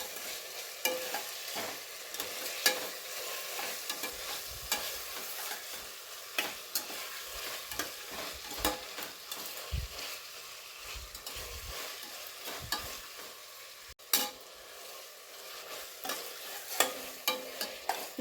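Chopped tomatoes sautéing in a pan for chicken biryani: a low, steady sizzle with regular scraping stirs of a spoon repeating every second or so, close by and fairly quiet, no voices.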